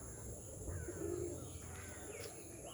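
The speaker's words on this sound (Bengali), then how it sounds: "টিনের শেডের উপরে 150-200 পায়রা খালি খাবারের খোঁজে দেখো বসে আছে" A flock of about 150 to 200 pigeons perched on a tin shed roof, looking for food, coos faintly and steadily in the distance under a quiet background hiss.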